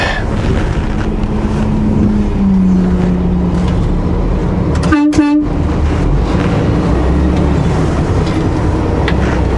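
A single short horn toot sounds about halfway through, cutting over a steady rumble of road and engine noise inside a moving vehicle.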